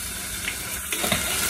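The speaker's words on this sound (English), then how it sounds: "It will bubble up when you put this vanilla in" Vanilla splashes into a hot butter candy mixture for Christmas crack, setting off a loud, steady sizzle and bubbling with small spits and crackles and no voices.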